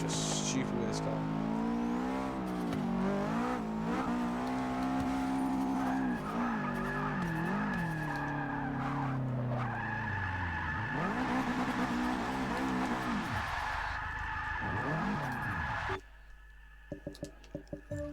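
A car in Forza Motorsport 6 with an extreme power-to-weight ratio, its engine revving hard and rising and falling in pitch, with tire skids, under steady talk, cutting out near the end.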